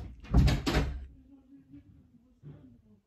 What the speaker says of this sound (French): tu peux fermer la porte